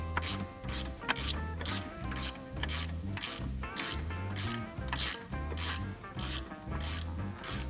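A suspension bolt being wound in on a 2005 Suzuki Jimny with a steady ratcheting and grinding mechanical rhythm, close and fairly quiet, repeating in regular pulls.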